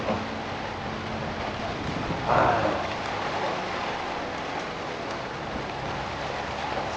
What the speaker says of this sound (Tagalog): Kasi yung hangin niya may kasamang ulan.